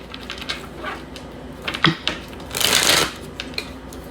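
Tarot cards are handled and shuffled in a few short riffles and taps, followed by a longer, brighter burst of rapid card flicking near the end, heard close up with no talking.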